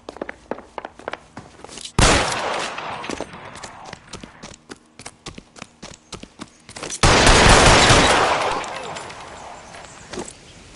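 Gunfire rings out in a shootout in the detective game L.A. Noire, with sharp scattered single shots and short bursts followed by two heavy, sustained blasts of loud, close firing, and voices heard around them.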